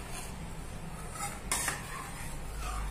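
A spoon stirs milk in a pan over a low flame while it thickens into mawa, with soft repeated scraping and light metallic clinks against the pan. One brighter clink sounds midway, and no one speaks.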